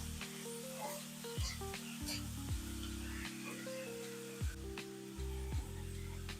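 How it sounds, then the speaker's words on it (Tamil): Finely diced potatoes fry in oil in a home kitchen pan, giving a steady, soft sizzle under background music. "பொடி பொடியாக அரிஞ்சு வச்சு உருளைக்கிழங்கு நல்லா எண்ணெயிலே நல்லா வதக்கணும்"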